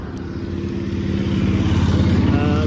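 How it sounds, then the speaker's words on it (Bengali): A motor vehicle passes on a high road from Kolkata, its engine drone building as it nears; close, loud, and steady, with a faint voice underneath. "এই দিক থেকে কলকাতার গাড়ি আসছে, একদম হাই রোড"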